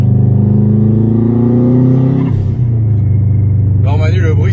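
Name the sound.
Subaru Impreza WRX STI engine revving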